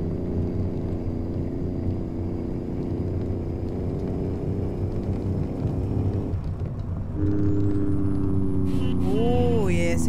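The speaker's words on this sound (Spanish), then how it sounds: "ese freno de motor, cómo lo escuchan" Engine braking on a heavy truck in American Truck Simulator, a steady low diesel rumble that turns rougher and louder partway through, with rising and falling tones near the end.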